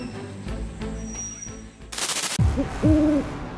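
Owl hooting arrives after a sudden loud burst: two deep, close hoots with a throaty swell follow a sharp crackling noise, over a busy background.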